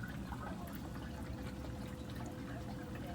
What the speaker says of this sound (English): I've got lots of good flow with just the bubbles